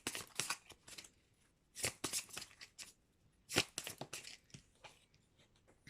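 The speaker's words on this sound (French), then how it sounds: "je vais prendre quelques cartes dans l'oracle du sixième sens" Oracle cards from a sixth-sense deck are shuffled in close, crisp bursts of riffling and slapping, three main clusters with quiet gaps between, fairly soft and with no talking.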